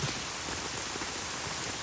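Steady rain pours down throughout a scene in a Telugu film starring Junior NTR, a dense, even hiss of drops striking surfaces with no voices over it.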